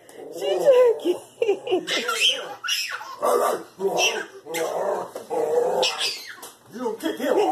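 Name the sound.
dog whimpering and growling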